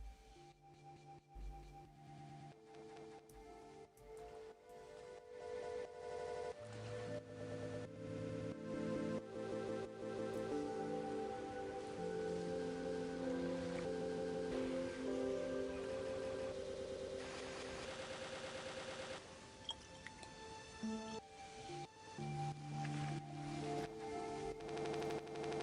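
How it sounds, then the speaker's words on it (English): A sample run through Ableton's beat repeat effect with a random LFO, stuttering and glitching in repeated chopped fragments that shift in pitch, fairly quiet overall with no talk. "Another thing you can do with Ableton's own devices is beat repeat and"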